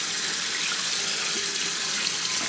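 Water pours steadily and loudly from a tap over fabric dyed with English walnut leaves. It is a close, continuous rush with no pauses and no talk.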